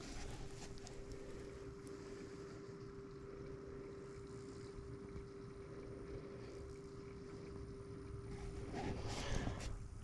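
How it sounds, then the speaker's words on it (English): A replacement septic pump runs with water flowing, a steady low mechanical hum and churning rush holding evenly throughout, with a faint tonal whine and some louder splashing near the end. "Well, I hear the pump flowing,"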